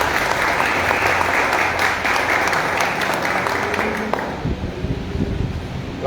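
Strong applause from an audience at a book launch event in Mompox rises as sustained clapping, then thins and tapers off near the end with a few scattered claps.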